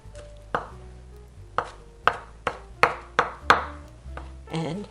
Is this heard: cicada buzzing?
no